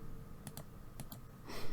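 A few crisp key presses on a computer keyboard while working in digital cardmaking software, spaced in two quick pairs with a soft click at the end, close and alone.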